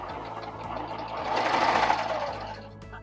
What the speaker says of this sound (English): That goes right against the knife, and I'm going to start serging.